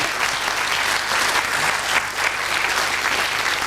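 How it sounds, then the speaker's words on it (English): Studio audience of a TV panel game applauding steadily and dutifully, a dense, even wash of clapping held at a constant level throughout with no voices on top. "Well, it was sort of applause by rote."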